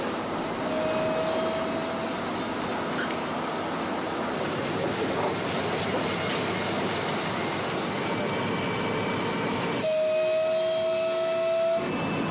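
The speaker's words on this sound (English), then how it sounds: "Attention passengers, the train is leaving." A children's railway train in Orenburg pulls away with steady rolling rumble and clatter, and thin high wheel squeals ring out near the start and again toward the end.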